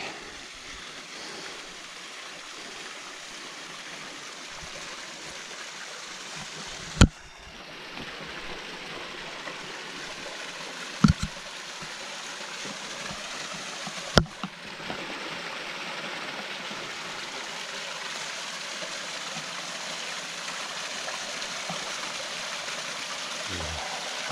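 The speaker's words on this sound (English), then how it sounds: "I'm still barefoot, so I'm just walking in this pitch black water" Bare feet wade through pitch-black water in a dark tunnel, with a continuous trickling, rushing flow and a few sharp knocks or splashes echoing over it.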